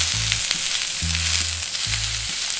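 Pork sizzles loudly on a hot pan in a home kitchen, a steady frying hiss with a few low rhythmic scrapes, no voices.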